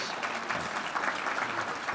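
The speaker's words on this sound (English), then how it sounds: "applause for them." Steady clapping from a conference audience, dense and even throughout, heard at a moderate distance with no voices over it.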